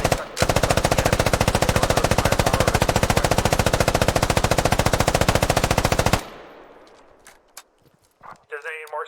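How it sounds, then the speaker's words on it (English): A machine gun in the Squad video game fires a long, rapid, even burst for about six seconds, loud and close. The burst cuts off into fading echoes and scattered clicks. "Automatic riflemen and machine gunners carry a machine gun like this to the field."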